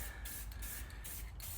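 A spray paint can is aimed at details on a Nissan D21 truck, giving short, deliberate bursts of hissing spray in quick succession with brief gaps between them, close and alone.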